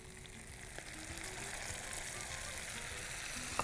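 Squeezed tomatoes hitting frying onions in a pan over a high flame, giving a steady close sizzle with soft crackles and no voices.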